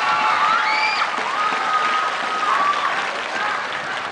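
Concert audience at a televised singing competition final applauds continuously, steady dense clapping with light cheering, while a voice speaks over it and a sung or sustained vocal tone rises faintly above the crowd.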